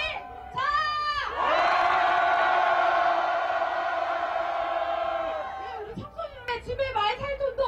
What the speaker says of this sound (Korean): 함성 질러보도록 하겠습니다